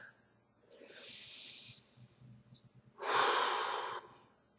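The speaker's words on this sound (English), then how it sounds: "Deep breaths." Deep breathing during yoga stretches: a soft drawn-in breath, then a longer, louder exhale hissing close to the microphone, with quiet gaps between.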